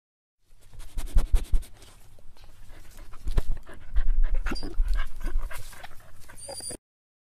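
A small dog pants rapidly and close up, with quick breathy huffs, a few soft whimpers and pattering steps.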